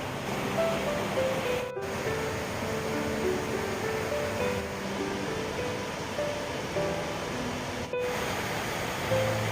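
Mountain stream water rushing steadily through the rocky Muju Gucheondong valley, a constant broadband roar heard close and alone, with two brief dropouts in the flow.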